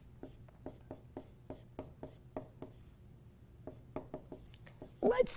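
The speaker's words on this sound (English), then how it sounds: "So let's take A and write it down." Pen strokes on paper as an equation is written by hand, a steady run of short, light scratches close up, ending in a brief louder rustle.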